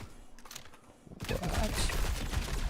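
Gunfire in the video game Star Citizen: a rapid burst of crackling shots begins partway through, loud and sustained after a quieter stretch of lighter ticking.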